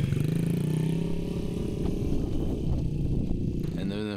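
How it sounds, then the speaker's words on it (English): A child rides a dirt bike, its small engine buzzing steadily and fairly loud close by, with a slight rise in pitch toward the end and no voices over it. "And here he is riding a dirt bike."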